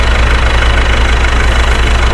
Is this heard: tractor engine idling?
yes